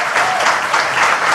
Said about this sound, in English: yes, applaud it